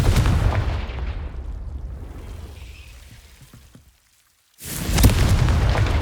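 Confringo explosive spell cast in Hogwarts Legacy, a heavy booming blast that rumbles and fades, a short silence, then another loud deep explosion bursts in.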